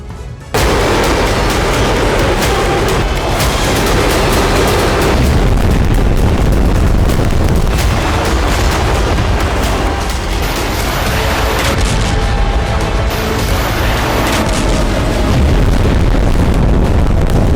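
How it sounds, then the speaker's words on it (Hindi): Cluster bomb strikes in the Russia-Ukraine war set off a dense, nearly continuous barrage of loud booms and cracking blasts, many overlapping in rapid succession for the whole stretch with no pause. "जमीन पर एक साथ 100 से भी ज्यादा धमाके।"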